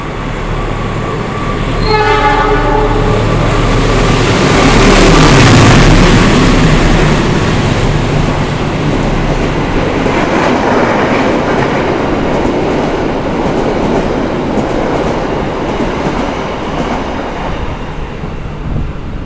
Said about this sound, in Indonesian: Itu barusan kereta api Mutiara Selatan berjalan langsung di stasiun Solo Jebres.